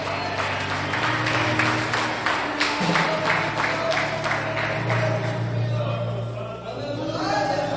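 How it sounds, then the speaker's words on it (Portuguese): An evangelical church congregation keeps up a rhythmic round of applause over sustained keyboard chords. The clapping is dense and steady for about five seconds, then tapers off as the music carries on. "Pode aplaudir ele mais um pouquinho, aplauda mais um pouquinho."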